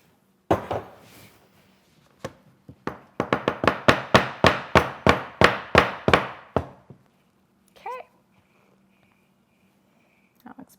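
Cranberry cocktail soap in its mold is tapped down on a hard surface to settle: a few scattered knocks, then a steady run of about a dozen loud, even thumps, followed by quiet handling noises.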